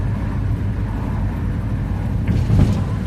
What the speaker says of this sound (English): So you may as well have a couple of minutes for me just cruising down in this old Zephyr